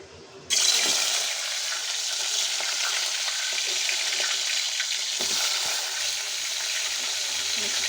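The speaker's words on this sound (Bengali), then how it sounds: "এখন এগুলো আমি একটু হালকা ফ্রাই করে নেব।" Chicken marinated in yogurt and salt drops into hot oil in a wok and erupts into a loud, continuous sizzle that settles into a steady crackling fry with occasional stirring.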